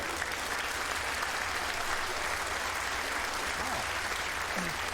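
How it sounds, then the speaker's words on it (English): A comedy club audience bursts into dense, sustained applause after a Jimmy Carr joke, loud and unbroken throughout with faint vocal murmurs mixed into the crowd noise. "I got a round of applause for that"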